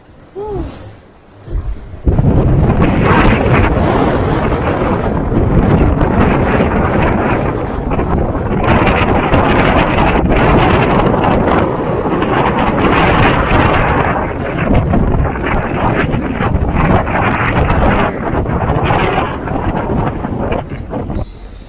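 Strong gusting wind roars across a sailboat's microphone as a weather front passes over the Bay of Biscay, loud and steady for about twenty seconds after a brief quieter start, with no speech.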